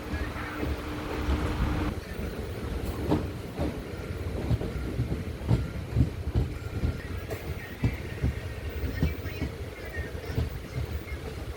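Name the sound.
Amritha Express train departing Oddanchatram railway station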